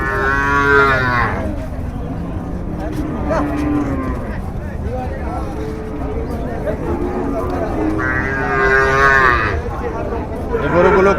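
Cattle lowing repeatedly at a busy Bangladeshi cattle market in Chandaikona, Bogura, held for Eid al-Adha, with long loud moos close by over constant crowd babble and nearby talking.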